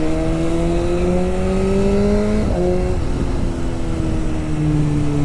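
BMW S1000RR Pro motorcycle engine revving through a downshift, loud and close, with steady harmonic drone dropping and rising again around a sharp blip mid-way, no talking.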